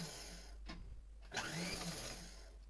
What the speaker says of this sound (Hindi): पूरे में एक सीधी सिलाई चला लेंगे